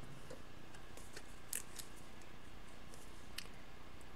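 Scissors roughly trim a piece of card stock for a handmade card, with a couple of faint, crisp snips spaced apart over a quiet room background.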